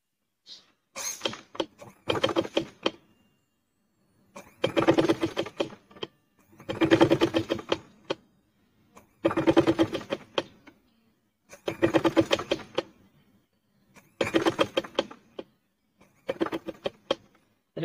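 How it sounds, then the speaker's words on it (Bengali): Domestic sewing machine stitching a zipper pocket onto a salwar, running in seven short whirring bursts separated by pauses as the fabric is turned, close and fairly loud with no talking. "এরকম চতুর সাইড ঘুরিয়ে আমি সেলাই করে নেব।"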